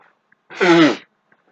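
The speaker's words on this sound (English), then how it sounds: "I need to blow my nose." Someone blows their nose once, a loud close honking burst lasting about half a second, with quiet before and after.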